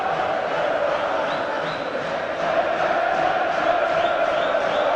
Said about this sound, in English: it's great to hear both ends cheering